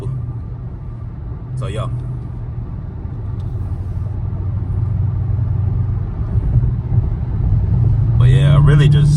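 A Dodge Charger R/T engine drones steadily inside the car on the road, a low rumble that grows slightly louder toward the end, with someone talking over it.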